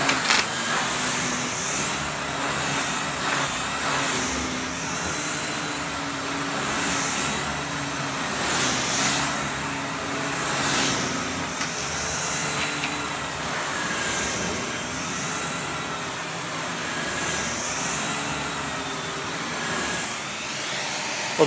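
Dyson DC39 vacuum cleaner with a turbine head running on carpet, a loud steady motor whine and airflow roar that swells and dips as the head is pushed back and forth, with no talking.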